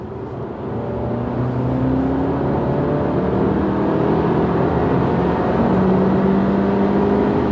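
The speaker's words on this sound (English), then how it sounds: "It's a really nice free rev, and it's got some poke." A 2017 Honda Civic 1.5 Sport hatchback's engine drones loudly and steadily from inside the car as it revs freely on an open road, with a smooth, continuous hum and no talk.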